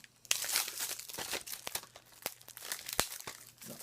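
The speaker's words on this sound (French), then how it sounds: "On va enlever le petit emballage de plastique" Thin plastic wrapping is peeled and crumpled off a Blu-ray/DVD combo case of The Nun, giving close, crackly crinkling and tearing sounds in irregular bursts with sharp snaps.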